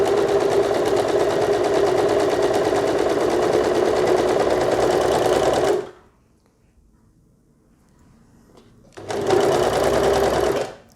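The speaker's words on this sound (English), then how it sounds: "start with the treadle and run through, forming stitches with the machine" An overlocker sewing machine driven by a treadle stitches fabric in a loud, steady whirring run, goes silent for about three seconds, then starts again at full speed.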